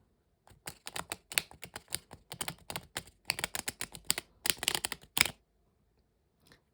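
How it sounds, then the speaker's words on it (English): A deck of playing cards riffle shuffled by thumb release, a close, brisk run of rapid papery flicks in several bursts that stops abruptly, followed by near silence and one faint tap. "you're going to allow your thumb to let go of a couple cards at a time"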